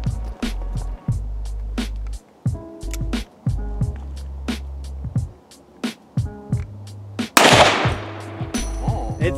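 Rapid pistol gunshots from a Security 9 and a Smith and Wesson SD9 fired together, about twenty sharp cracks in quick uneven bursts, loud and close, with no talk.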